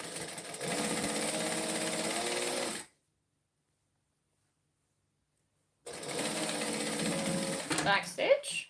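A home sewing machine back stitching a fabric bag, running in a fast steady whir for a few seconds, falling silent, then starting again with the same close mechanical hum.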